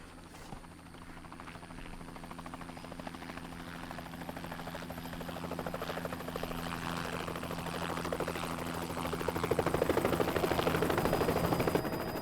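A reconnaissance aircraft flies overhead above soldiers on a grassland, making a rapid, chopping rotor-like drone that holds steady and grows slightly louder toward the end, with no speech.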